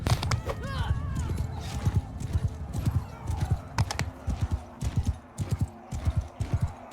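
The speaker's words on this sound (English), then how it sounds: "That's a horse." Horse hooves clip-clopping with a whinny in the video game Bannerlord, set in a battle aftermath. The hoofbeats are rapid and fairly close, and voices speak over the sounds at times.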